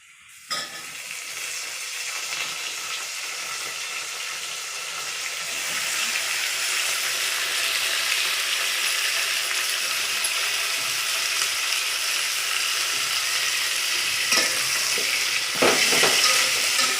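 Finely chopped tomato and potato sizzle steadily in a pan over already roasted onion and garlic, a continuous frying hiss that grows fuller, with a few sharp spatula scrapes near the end.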